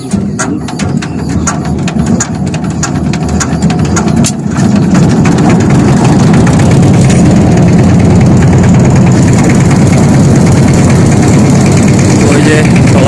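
A river trawler engine idles and chugs on the Dhaleshwari river near Kharakandi as a steady low mechanical drone, with rattling clicks early on and talk mixed in.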